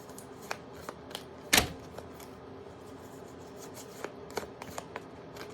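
Tarot cards being shuffled and handled up close, with soft, quiet ticks and slides, one louder riffling burst, then scattered light card taps.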